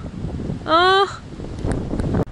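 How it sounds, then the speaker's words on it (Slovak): Strong, gusty wind ahead of an approaching storm roars across the microphone in a continuous rumble, broken by a brief rising squeal midway. "blíži sa búrka, vidím to, ale však ako musí tak fúkať"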